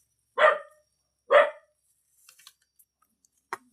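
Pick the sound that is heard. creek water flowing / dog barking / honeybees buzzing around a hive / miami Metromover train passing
dog barking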